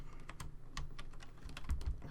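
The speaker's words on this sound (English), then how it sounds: "Clicking" Rapid clicks of a computer keyboard and mouse while working in Musescore notation software, a close, irregular run of light taps with no speech.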